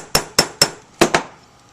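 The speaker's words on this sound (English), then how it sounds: "this is a riveting hammer" A riveting hammer strikes a brass stamping rivet five times, three evenly spaced blows and then a closer pair, each a sharp close metallic clink with a short ringing decay, with no talking.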